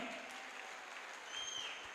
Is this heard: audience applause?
yes